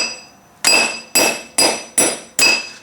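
A hammer whacks pressed-in wheel studs out of a commercial mower brake drum with five sharp metallic strikes, evenly spaced and ringing, loud and close with no voices.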